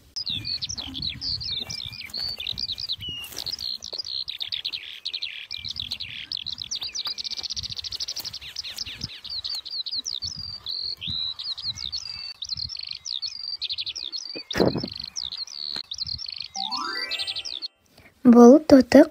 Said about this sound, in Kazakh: Бұл торғай. Ең таныс кішкентай қала құсы.